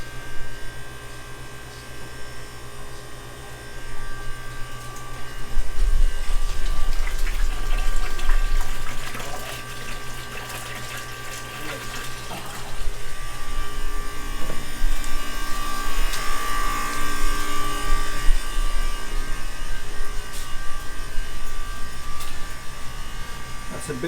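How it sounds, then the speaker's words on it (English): Water rushing steadily through a large backwater valve in a restaurant, a loud continuous hum and gush that swells after a few seconds and stays strong throughout. "That's a big back water valve."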